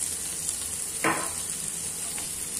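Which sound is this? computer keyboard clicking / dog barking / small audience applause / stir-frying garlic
stir-frying garlic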